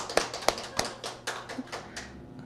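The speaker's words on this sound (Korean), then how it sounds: "박수 한번 쳐주세요." A church congregation clapping for Shiny: a handful of sharp, fairly quiet claps at an uneven pace, thinning and fading out within a couple of seconds.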